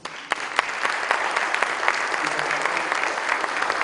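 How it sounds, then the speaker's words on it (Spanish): Steady applause from a university conference audience in Madrid, dense clapping filling the space continuously at a fairly loud level, with no voices over it. "Recibámoslo con un fuerte aplauso."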